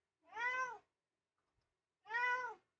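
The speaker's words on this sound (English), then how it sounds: "Not the cat here, of course. The cat's got his own opinions." A three-legged kitten meows twice, each call clear and drawn out, separated by a long stretch of silence, close by with no other sound around it.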